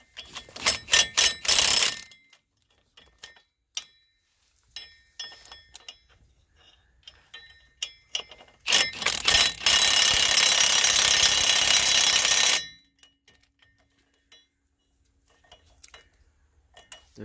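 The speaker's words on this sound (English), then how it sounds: "That Milwaukee impact gun." A Milwaukee impact gun tightens lug nuts on the rear dually wheels of a Ford F350, with a quick series of sharp rattling bursts, then quieter clicks and handling noises, then one long, loud hammering run of several seconds.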